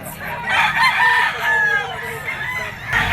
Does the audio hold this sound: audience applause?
no